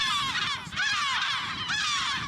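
Yellow-legged gulls call across a seabird colony on an island in the Essaouira archipelago, a dense, continuous chorus of overlapping squealing and yelping cries, fairly near and steady throughout.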